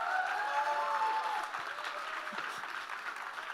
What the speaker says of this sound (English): please give yourselves a hand